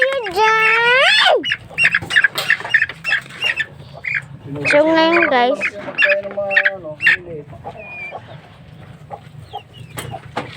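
Chickens and small ducklings in a backyard pen squawk and cluck loudly up close in repeated bursts, with a voice talking among the calls.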